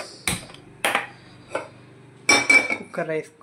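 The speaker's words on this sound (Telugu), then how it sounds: "కుక్కర్ పెట్టేసుకుందాం." Metal cookware clanks onto a stove in a few sharp, close knocks and rattles, heard as several separate bangs with a brief scraping clatter at the end.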